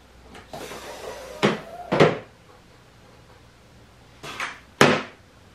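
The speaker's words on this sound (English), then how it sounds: "we heard the locks lock the mains, the front door closed, gear down." Landing gear on a giant RC A-10 model cycling, with a whooshing retract movement followed by sharp clunks as the gear locks engage and the gear doors close, two bursts of mechanical motion separated by quiet.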